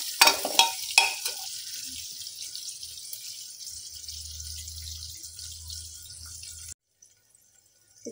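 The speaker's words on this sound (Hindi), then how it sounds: "फिर हमारा garlic ginger and green chilli अच्छे से कुक हो चुका है, भून चुका है" Garlic, ginger and green chili frying on a low flame: a few stirring clinks at first, then a soft, steady sizzle that stops abruptly near the end.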